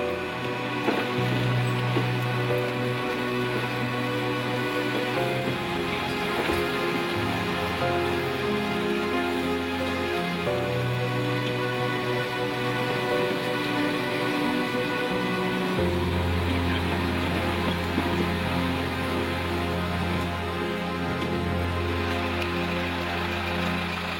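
Heavy rain pours steadily onto a muddy cliffside road, a loud, continuous hiss lasting throughout, with a low droning hum running beneath it.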